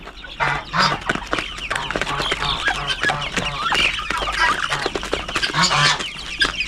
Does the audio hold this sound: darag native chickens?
yes